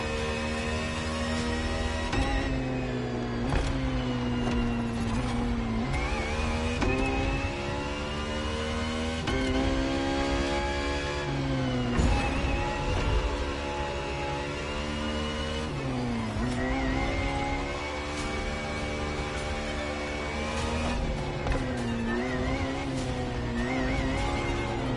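Ferrari FXX K engine in The Crew Motorfest, a loud, continuous high-revving wail climbing and dropping through gear changes, with tyre squeal mixed in across the whole run.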